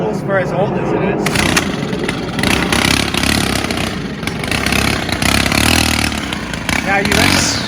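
A small pull-start engine, around two and a half years old with an unchanged air filter, runs roughly and unevenly at close range, its loud buzzing drone surging and dipping throughout under people talking.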